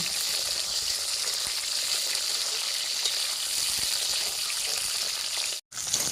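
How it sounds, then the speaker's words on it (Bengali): Potatoes frying in a pan for a rui fish curry with cauliflower: a dense, even, close-up sizzle that runs steadily throughout, broken only by a brief cut near the end. "আমি সেই আলুগুলোকে ভেজে নিচ্ছি"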